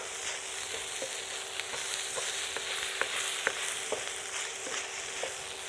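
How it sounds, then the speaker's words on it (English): Steady close sizzle of bok choy and choy sum being stir-fried in chicken fried rice, with light scraping stirs and occasional small ticks over the continuous frying hiss. "I'm going to add our bok choy, choy sum. Again, just give this a mix through."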